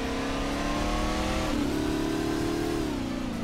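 In the Workers & Resources video game, a car pulls away with a steady engine hum that rises in pitch as it accelerates and shifts, mid-level and continuous, with no speech over it.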